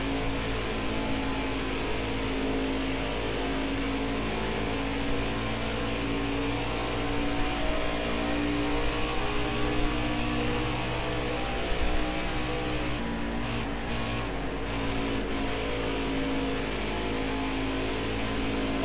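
Race car engines in NASCAR Heat 5 drone continuously, a loud sustained roar of several cars running together with slight shifts in pitch, steady throughout with no pauses.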